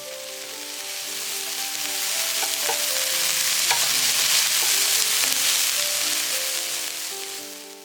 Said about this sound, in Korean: 나물에 수분을 적당히 날려서 윤기 날 때까지 볶아준다.